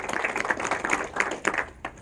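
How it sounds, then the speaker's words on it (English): A crowd at a hemp industry summit applauding, dense overlapping claps of moderate loudness that thin out and fade toward the end. "I would like to give you all a round of applause for being here"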